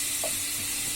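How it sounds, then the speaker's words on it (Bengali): 250 grams of prawns frying in a little oil in a pan give off a loud, steady sizzle, with a brief stirring scrape near the start. "প্যানে অল্প কিছু তেল দিয়ে আমি 250 গ্রাম চিংড়ি মাছকে ভেজে নিব"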